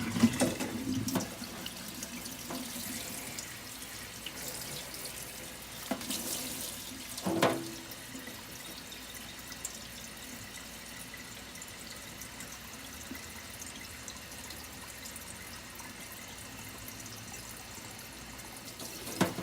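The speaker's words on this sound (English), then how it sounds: "I'm gonna rinse the rest out because I don't want not one bug" Tap water runs steadily into a sink, rinsing bugs out of Ti plant soil, a faint continuous splashing stream with a few brief clunks and no talking.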